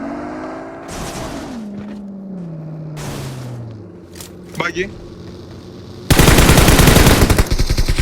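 Automatic gunfire from PUBG Mobile bursts in loudly over the last two seconds as a dense, rapid stream of shots, preceded by game ambience and a passing vehicle-like drone with scattered clicks.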